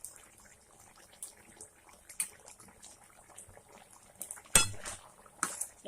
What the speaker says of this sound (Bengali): এবার এটাকে আমি এইভাবে 2-1 বার নেড়ে নেব।